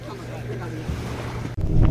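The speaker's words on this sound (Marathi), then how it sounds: "बोट पाण्यात उतरलेली आहे." A boat just launched into the sea at Malvan, with wind, water wash and engine rumble close up, and a sharp bump and louder surge near the end, under faint voices.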